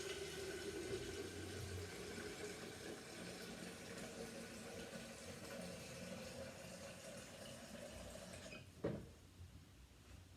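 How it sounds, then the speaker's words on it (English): A kettle being filled with water from a tap, a steady rushing, filling sound lasting several seconds, ending with a short thump as it is set down. "then fill it up to max so we can make a cup of tea later as well"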